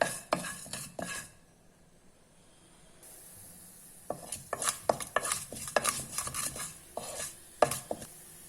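Urad dal and mustard seeds splutter in hot oil, giving close, sharp, irregular pops and crackles in bursts, a quiet pause, then a denser run of snapping pops.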